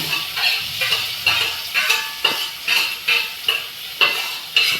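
Crushed shallots, garlic and red chili frying in a pan: a close, steady sizzle broken by regular scraping stirs of about two per second, with no talk.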